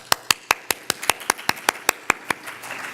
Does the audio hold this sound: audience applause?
yes